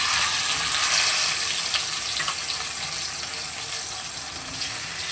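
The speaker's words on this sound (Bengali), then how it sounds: "এবারে এই তেলের মধ্যে আমি এক এক করে মাছগুলোকে ভেজে নেব।" Fish frying one piece at a time in hot oil, a steady dense crackling sizzle that holds close and fairly loud throughout with no talking.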